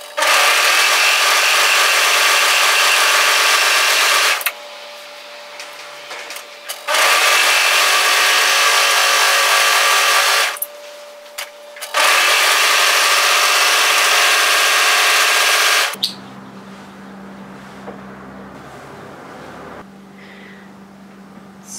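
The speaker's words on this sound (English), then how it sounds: "We're just going to overlock this side here." An overlocker stitching along a fabric edge for a puff sleeve top, running in three loud sustained bursts of whirring motor and rapid needle chatter, separated by short pauses, then stopping with only quiet handling sounds.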